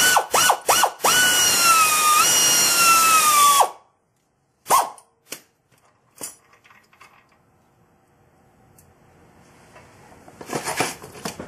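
A power tool or ratchet whirs loudly to back out the final transmission bell housing bolt on a Jeep Wrangler TJ with a five-speed, followed by scattered clinks and rattles of tools and metal parts.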